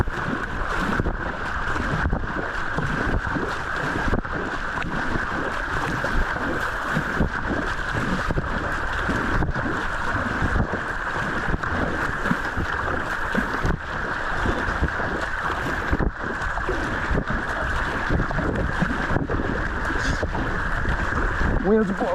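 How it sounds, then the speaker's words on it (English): Strong wind blowing across open water during a kayak speed run comparing a Dagger Vanguard and a Pyranha 12R, a steady loud roar with rhythmic paddle strokes and splashes throughout. "Wind's blowing hard."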